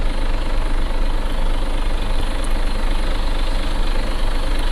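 A Volvo FH16 truck engine idling in World Truck Driving Simulator, a loud, steady low diesel rumble with even vibration throughout and no talking.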